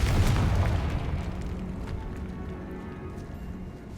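A Confringo blasting spell explodes in Hogwarts Legacy, a deep boom at the start that fades slowly into a low rumbling tail.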